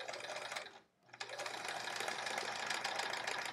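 A sewing machine stitches quilt half-square triangles in a steady whirring run, briefly stopping for a moment before continuing close and clear.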